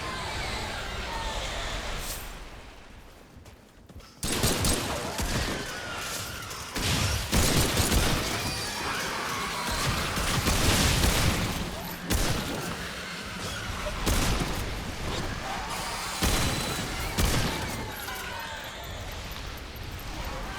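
Dense gunfire in the shooter game Remnant 2 keeps up for about twenty seconds. A brief lull gives way to repeated loud volleys, sharp cracks and booming blasts, close and nearly continuous.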